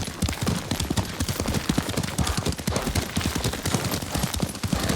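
Horse hooves clip-clop in a quick, continuous galloping rhythm during a ride in Ghost of Tsushima, loud and close throughout.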